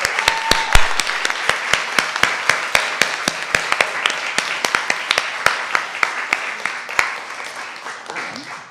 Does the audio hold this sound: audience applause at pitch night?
yes